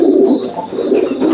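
A pigeon coos close by in a loft, giving low, throaty, repeated coos that run continuously with no talking.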